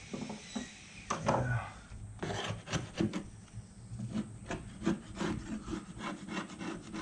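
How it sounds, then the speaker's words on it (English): A putty knife scrapes along wood while an aluminium window is removed from behind brick, giving repeated short rasping strokes, close and moderately loud, in an uneven rhythm. "try to keep your putty knife flat with your wood so you don't gouge it"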